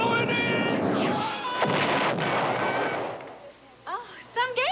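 Atari's Star Wars arcade game roars with laser fire and booming explosions, a dense noisy barrage that fades, then gives way to excited voices near the end.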